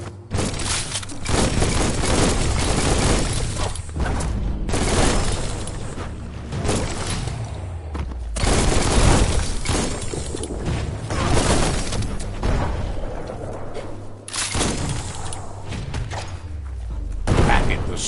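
Bomb lobber explosions in the video game Biomutant go off in a dense, loud series of booming blasts and crackling bursts, one after another for the whole stretch, with a voice speaking briefly over the action.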